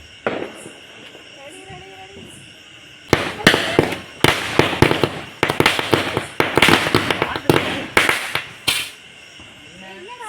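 Firecrackers burst at a home Diwali celebration, a rapid chain of sharp, loud cracks and pops after a quieter opening, with voices talking in the background.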